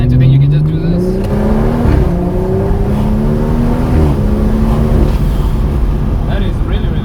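Turbocharged B58 inline-six in a BMW M240i pulling hard under full throttle, engine note climbing steadily through the revs and shifting gears, loud and close from the cabin, with a voice talking over it.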